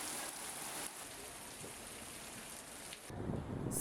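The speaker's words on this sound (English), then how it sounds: "day 3 was quite rainy" Steady rain in Scotland hisses on a surface, a soft continuous wash that shifts and grows a little louder near the end, with no voices.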